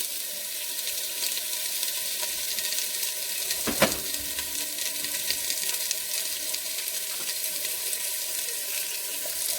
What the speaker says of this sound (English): you want to add onions